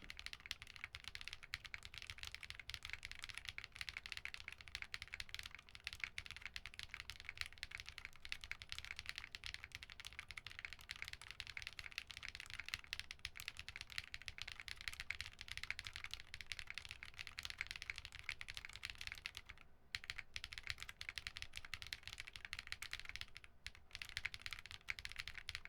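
Steady, rapid keystrokes on a Trio-60 keyboard in a Ladybird stacked acrylic case, a continuous close-up patter of typing running throughout with only a couple of brief pauses, no voices.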